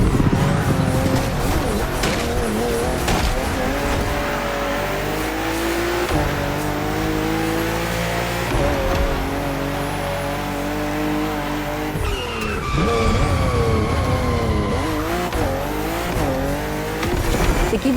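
A BMW M4 CSL in The Crew Motorfest races hard, its engine roaring loud and close through rising and falling revs, with gear shifts and squealing tyres sliding through corners, continuous and without talk.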